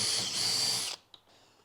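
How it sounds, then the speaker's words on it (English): A power drill bores straight down into native hardwood for a bee hotel, a loud high-pitched steady whine lasting under a second before cutting off abruptly, followed by a faint click and quiet. "just by drilling straight down into the hardwood"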